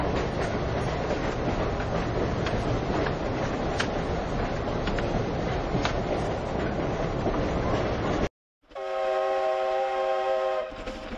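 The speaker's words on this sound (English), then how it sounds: "there is one small steam train that is content to run at less than 20." A small steam train in Jiayang, Sichuan, running at under 20 km/h, rumbles and clatters loudly and continuously; after a brief cut, its shrill, multi-toned whistle sounds close by.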